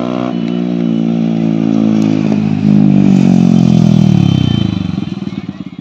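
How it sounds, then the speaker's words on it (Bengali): A heavily modified Yamaha R15 V3 sport bike with a loud aftermarket exhaust roars close by, its deep engine note climbing as it accelerates past, then fading away and sputtering out. "তো গাইস এখানে দেখালাম পুরো ফ্লাই বাইটা, দেখলে পুরো হেভি সাউন্ড।"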